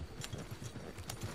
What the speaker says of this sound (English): If I gotta call the horse out